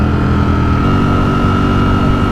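A Ducati Streetfighter V4 S motorcycle engine hums in a steady, loud drone while riding, with a constant low rumble and no talking.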